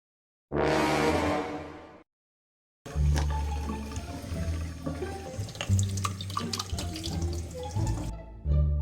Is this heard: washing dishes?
yes